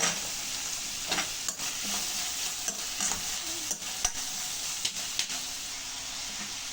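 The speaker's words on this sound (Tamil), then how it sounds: "இப்போ நம்ம இந்த ஆனியன் போடலாம். நல்லா வதக்கிட்டு" Onions and rock salt sautéing in a pan while being stirred, a steady close sizzle broken by scraping utensil strokes at irregular intervals.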